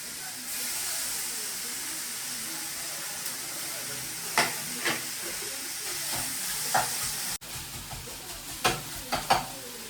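Ginger garlic paste fries in a pan for mutton liver pepper fry, a soft steady sizzle with several spoon scrapes and clinks near the end, close and fairly quiet, with no talk over it.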